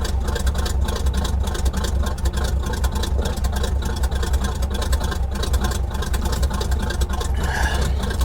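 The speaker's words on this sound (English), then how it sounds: "By the way, the truck's running perfect." A truck engine idles at 40 pounds of oil pressure while charging, a steady, loud low rumble with an even mechanical churn running unbroken throughout.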